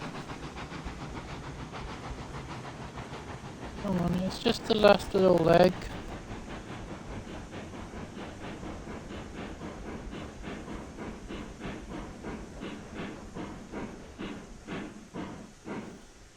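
A steam locomotive labours up a grade in the game Railroads Online, with a burst of loud hissing steam midway and then a steady rhythmic chuffing that builds, while someone talks over it.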